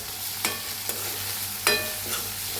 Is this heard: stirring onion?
yes